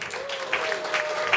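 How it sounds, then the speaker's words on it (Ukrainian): A seated audience gives a brief, even round of applause as a company's research and development director is introduced to the jury. The clapping is steady, with a voice trailing off beneath it. "йому оплески."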